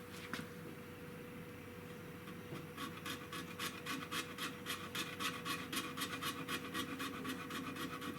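A file works hardened epoxy on a Winchester Model 100 rifle stock. Quiet rasping begins after a short pause and settles into a regular back-and-forth rhythm of strokes, close to the microphone, with no talking.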